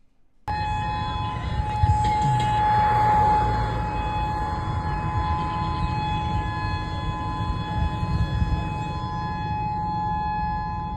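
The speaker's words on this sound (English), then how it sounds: "This is when the sirens were first going off." Tsunami warning sirens wail across Hawaii in a long, steady, droning tone that rises in and holds for several seconds, loud and sustained with faint background noise beneath.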